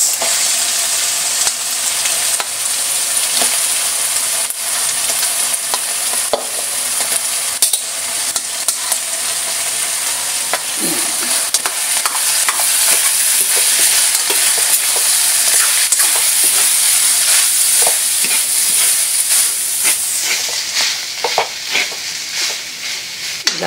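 Rice and mushrooms being stir-fried in a pan: a continuous bright sizzle with steady scraping and stirring from a utensil, close and fairly loud throughout, with no talking.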